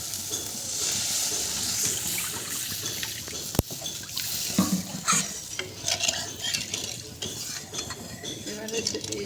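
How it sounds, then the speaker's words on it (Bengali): Water added to fried spice masala for a Bengali-style small fish achari curry gives a soft trickle and hiss, with stirring clinks of a utensil against the pan and one sharp knock, all fairly quiet. "এবারে আমি জল দিয়ে দেবো।"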